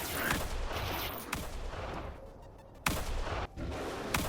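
Gunfire in the Mayday RP video game: a few sharp, loud shots spaced irregularly over a busy, noisy in-game background.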